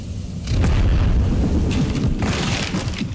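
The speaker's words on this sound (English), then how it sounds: "That's a heck of an explosion." A loud, deep booming blast from the Eternal Strands video game erupts after a brief quiet, then rumbles on heavily with a sustained roar that slowly eases.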